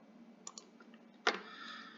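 A single mouse click as an add-competency button is pressed in HR software, short and close against a quiet room background.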